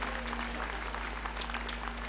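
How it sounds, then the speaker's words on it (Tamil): An audience at a Tamil lecture event claps in a steady, even burst of applause, heard close and sustained over a low hum. "நல்லா ஒரு கைத்தட்டு கொடுங்க"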